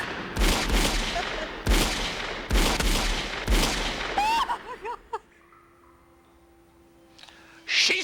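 Gunshots in an old radio crime drama, four loud evenly spaced close blasts, each with a short echoing tail, then a brief ringing, warbling sound effect fading into near silence before a final burst.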